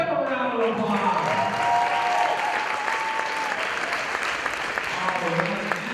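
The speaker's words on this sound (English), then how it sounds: "Give a round of applause" Audience applause fills a hall at the Alaska FIRST Tech Challenge state championship, Skystone season 2020: dense, steady clapping and crowd noise for about six seconds, with voices talking over it.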